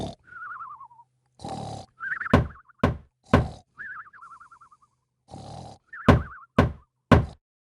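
Loud knocking on a door comes in sharp bursts of two or three heavy raps, repeated several times between stretches of a warbling cartoonish tone and brief noisy swishes, close and punchy.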